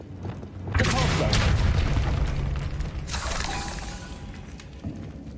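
A Depulso spell is cast in the Hogwarts Legacy video game, a loud forceful whooshing burst that swells and holds, followed by a second shattering blast and a small thump near the end.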